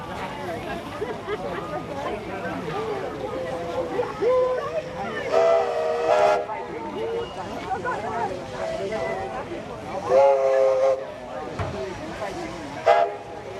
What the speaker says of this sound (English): With the path cleared, 4201 now leads the train back into Maitland